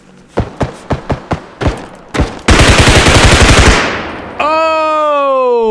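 UMP gunfire in the video game Bodycam: a string of loud, sharp single shots, then a fast rapid-fire burst, followed by a ringing tonal whine, close and dominant.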